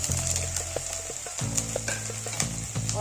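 Ground spices hitting hot oil in a pan for a pumpkin and chana dal dish: a close, continuous sizzle with a low humming drone underneath and light stirring clicks, and no one speaking.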